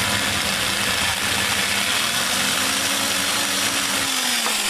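An electric drill turns a 6.5 mm bit during construction of a simple ESR capacitor tester, giving a loud, continuous motor whir that sags slightly in pitch near the end, with no talking.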